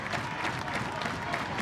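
Crowd cheering and clapping at a 2024 NCAA softball regional final between Missouri and Omaha, a dense, lively roar of applause that holds steady for a short burst.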